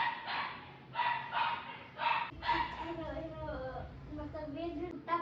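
A pet dog barks in short repeated bursts close by, then gives softer yips and whines, with people talking over part of it.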